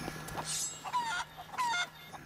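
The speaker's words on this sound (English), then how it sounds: "The chickens and the pig." Chickens in a pirate adventure video game cluck and squawk in two or three short bursts, fairly quiet and close, with no talk over them.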